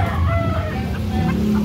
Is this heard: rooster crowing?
yes